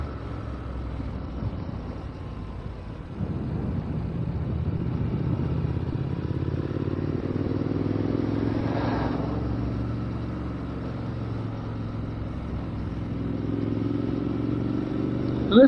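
A motorcycle cruising along a canyon road, its engine droning steadily and close throughout with a rising, shifting tone as the ride goes on, no talking.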